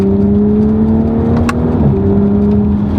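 A 2018 Audi S5 Sportback with a ZF automatic transmission accelerating hard, its engine droning loud and close with a steady climbing pitch, then a quick upshift drop near the two-second mark before it pulls again.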